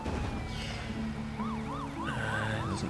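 An ambulance siren in the bridge-building game Poly Bridge 2, a wailing up-and-down tone that fades in halfway and repeats steadily over a constant low vehicle hum, moderately loud.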